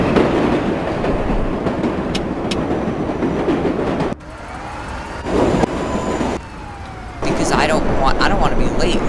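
Subway train running in the video game World of Subways 4, a rumbling ride with metallic squeals and shifting sections of rolling noise, loud and near.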